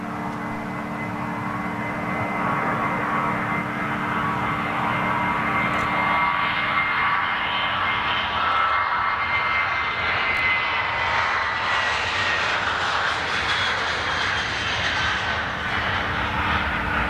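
Jet airliner engines at Amsterdam Schiphol spool up slowly in cold weather, a steady loud roar with a rising whine that climbs over many seconds and holds near, with no talk over it.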